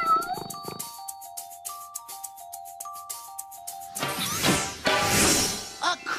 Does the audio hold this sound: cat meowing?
yes